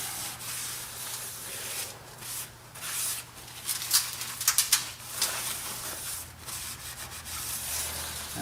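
A rag wipes grease from the front and back of a 2008 Chevy 2500 front brake hub, making steady close rubbing strokes with a few sharper scraping bursts midway.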